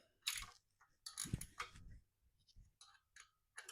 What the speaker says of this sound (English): we're going to loosen the idler pulley adjustment bolt just here. That's a 12mm spanner too.